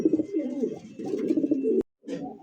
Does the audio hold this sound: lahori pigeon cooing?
yes